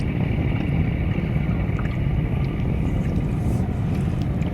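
A rented boat on the Meghna river gives a steady, loud, low rumble that continues unchanged throughout, with no voices.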